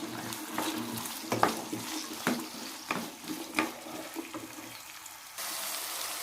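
Vegetables such as peas, carrot, potato and beans sauté in a pan for hotel-style rava kichadi, giving a steady low sizzle broken by several sharp scraping clinks of a spoon or spatula against the pan.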